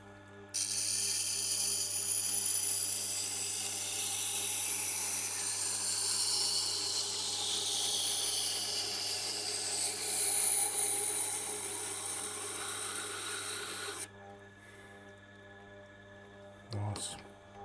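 A 440C steel knife being ground on a powered sharpener, a steady loud high-pitched grinding whine over a low motor hum for about thirteen seconds before cutting out to a quieter background.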